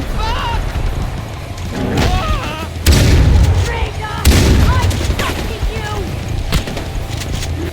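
Gunfire in Far Cry 4: loud booming shots and bursts of automatic fire, with two heavy blasts standing out near the middle, mixed with game sounds and a person talking over the action.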